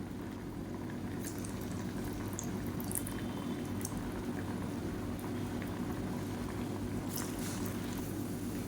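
Bread pakoda batter bubbling and frying in hot oil, a steady dense crackle with occasional brighter pops, close and continuous without talk.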